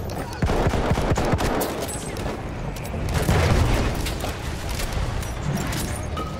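Battlefield 1 combat in the Amiens map: rumbling dynamite blasts and scattered gunfire in a steady, loud barrage of overlapping booms and shots, with a heavier swell midway and no speech.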